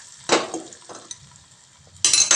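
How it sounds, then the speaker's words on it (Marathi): Curd rice being stirred in a pot after a hot tempering is added, giving a few brief scraping and clinking strokes with quiet gaps between them and a louder burst at the end, with no talk. "आणि आता आपल्याला ते व्यवस्थित हलवून घ्यायचंय"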